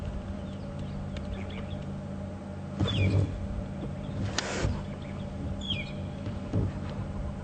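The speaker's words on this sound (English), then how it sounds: "Magpie shrikes calling." Magpie shrikes give a few brief, high chirping calls during an evening safari drive at Djuma Game Reserve, set against the steady low rumble of the game vehicle's engine and soft background noise.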